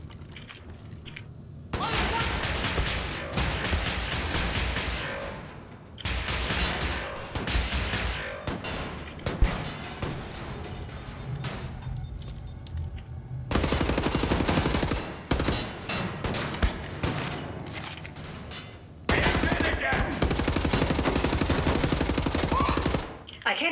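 Gunfire in the video game Wolfenstein: The New Order, with shots ricocheting off surfaces. Dense, loud bursts of shooting come in long stretches separated by brief pauses.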